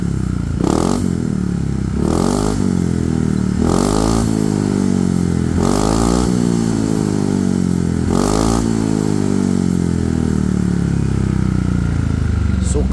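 Motorcycle with a standard racing exhaust revved in short bursts, five sharp throttle blips spaced about two seconds apart over a steady idle, close and loud.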